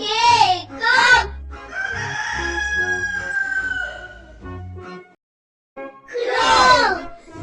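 A rooster crows loudly and close, a long drawn cock-a-doodle-doo followed after a short silence by another burst of crowing, with a voice briefly present.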